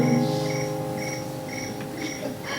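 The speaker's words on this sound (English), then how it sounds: "And the crickets, itty bitty crickets," Crickets chirping in steady, regularly spaced pulses, with a soft continuous drone beneath them and no other sounds.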